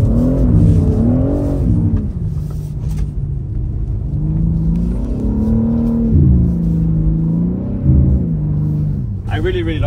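A new car drifting in snow, its engine revving and falling in long sweeping waves with rumbling exhaust, loud and close throughout, with someone talking over it.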